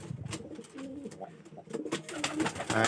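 Pigeons coo in soft, repeated throaty bursts close by, a steady run of calls with a little background noise around a backyard coop where chickens are also being fed.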